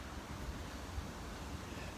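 Steady wind rumbles and buffets a microphone outdoors on a cold, dark night at a home garage, a continuous low roar with gusty surges and no voices.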